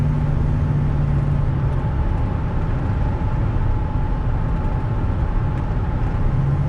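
A V6-to-V8 converted Chevrolet Silverado slows on cruise control, its engine and road noise forming a steady, loud drone from inside the cab with no break.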